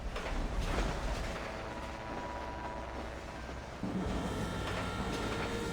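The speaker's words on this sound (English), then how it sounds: "The train is now entering a tunnel." Train rolling on rails in the Red Dead Redemption game, a steady low rumble with faint rhythmic clatter that shifts in tone partway through, continuous and fairly close with no talking.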